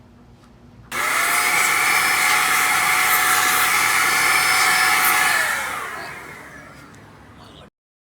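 After a quiet start, a heat gun switches on with a loud, steady blowing roar while warming a vinyl badge inlay for a VW GTI MK6 emblem, then drops in intensity and cuts off near the end.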